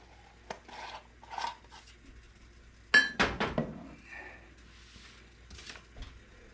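A spoon works baking soda into a bar crust mixture in a bowl, giving sparse scraping and clinking strokes with a short cluster of louder scrapes midway and quiet gaps between.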